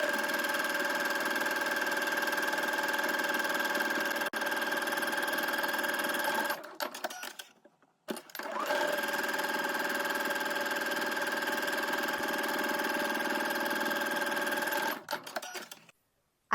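A sewing machine stitches casing seams with a 3/8 inch seam allowance on a shirred spring dress, running in a steady close whir, pausing briefly, then running again before stopping.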